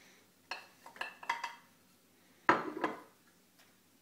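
Honey, peanut butter, nuts and raisins mixed in a bowl for homemade protein flapjacks, with a cluster of clinking spoon-on-bowl knocks followed by a pause and then a louder scraping clatter.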